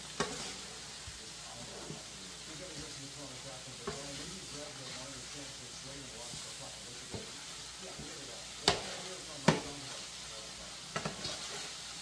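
Chicken tortellini being mixed on a flat griddle, a steady soft sizzle and frying hiss under scattered sharp scrapes and clicks of a utensil against the metal surface, with faint speech.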